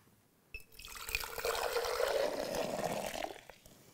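Colored liquid poured back and forth between glass beakers in a traffic-light chemistry experiment, a steady trickling pour swelling and fading over a few seconds, close and moderately loud with no talk.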